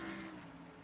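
Brief burst of a Texaco Haviland Ford race car engine on a road racing circuit, a steady droning hum at moderate distance, fairly faint and constant throughout.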